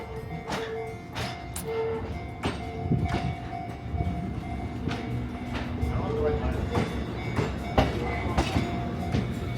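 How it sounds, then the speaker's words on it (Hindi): A train runs along a railway track near Mount Fuji in Japan, its steady rumble and rhythmic wheel clacks carrying through the whole stretch while people talk over it. "एंड ये ट्रेन आ रही है।"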